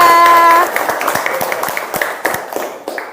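A class applauds a student in a classroom, starting with a short burst of clapping that thins into scattered, uneven claps over a few seconds.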